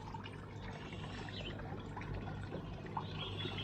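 Four aquarium bubblers run in a fish tank, a steady, faint rush of bubbling water that continues unbroken throughout with no voices.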